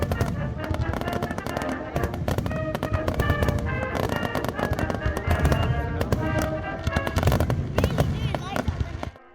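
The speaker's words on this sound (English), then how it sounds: "we had a great time watching the Bastille Day fireworks" Bastille Day fireworks in the Dordogne, France: a dense, continuous barrage of crackling pops and bangs from a nearby display, with voices chatting among the bursts.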